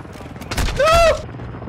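Fennec submachine gun from Modern Warfare 2 firing a rapid burst in a multiplayer match, a loud rattling volley lasting about half a second amid game ambience with a ringing tone.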